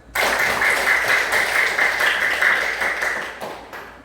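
Classroom applause as students clap hands together, a dense and steady burst of many clapping hands that holds strongly, then tapers off toward the close.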